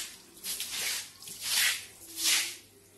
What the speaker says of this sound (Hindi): पूरा मैं अभी झाड़ू से पानी निकाल रही हूँ